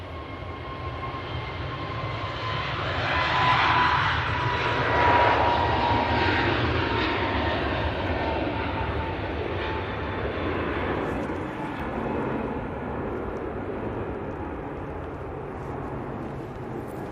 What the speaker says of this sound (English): A321 Neo now on the roll.